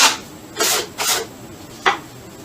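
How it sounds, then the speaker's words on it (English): A trowel drags joint compound across a wall repair on a second coat, feathering it smooth: four separate raspy scraping strokes, close and fairly loud, with quiet pauses between them and no talking. "I'm taking my trowel, I'm coming across, and I'm going like that"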